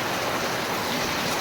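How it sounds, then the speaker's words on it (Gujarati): Heavy rain pours down outside a mud house, a dense, steady hiss of downpour close by, with no voices over it. "જો બહાર વરસાદ, ધોધમાર વરસાદ ચાલુ થઈ ગયો છે અત્યારે હાલ જ એકદમ"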